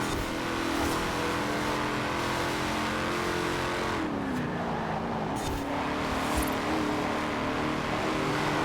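A racing car engine roars steadily in Forza Horizon while overtaking on the outside, with a dense, continuous drone, a shifting pitch around a gear change midway and faint tire noise, close and loud throughout.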